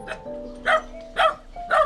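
A dog barks three times in quick succession, loud and close, with short gaps between the sharp barks and a little background noise.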